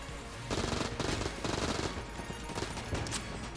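Rapid bursts of automatic AK rifle fire in the video game Enter the Gungeon, loud and dense, arriving in several sustained volleys with brief gaps between them.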